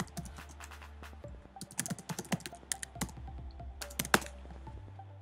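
Someone types on a computer keyboard in quiet, uneven bursts of clicking keystrokes over a low, steady background hum.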